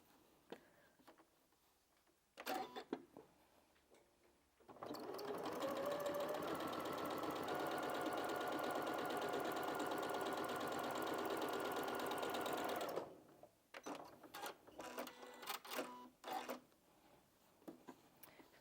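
A sewing machine runs in a long continuous whirring burst for about eight seconds as it stitches quilt-as-you-go patchwork fabric for a cushion, with shorter bursts of stitching and handling of the fabric before and after.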